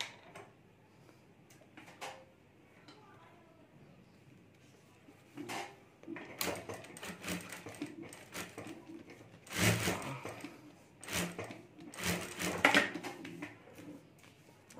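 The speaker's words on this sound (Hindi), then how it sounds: "तो यहाँ भी मैं सिलाई कर देता हूँ।" Sewing machine stitching a fabric mobile cover, quiet at first, then bursts of rapid mechanical clatter in short runs separated by pauses, close by with no speech.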